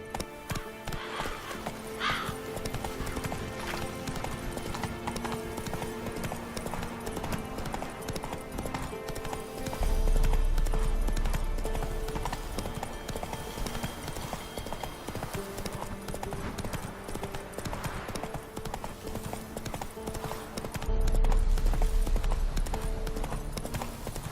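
Hooves of a galloping horse clip-clop steadily in The Witcher 3, mixed with game music and ambience, with louder surges of movement partway through and near the end.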